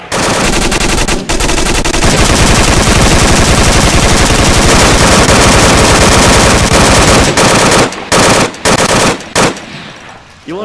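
Loud, sustained automatic gunfire from the VR shooter Onward, near and continuous for several seconds, then breaking into a few short bursts with brief gaps before stopping.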